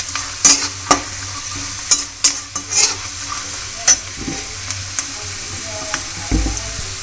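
Semi bhaji, flat beans with turmeric and salt, frying in a pan: a steady soft sizzle under repeated sharp scrapes and clacks of a stirring spoon, close and fairly loud.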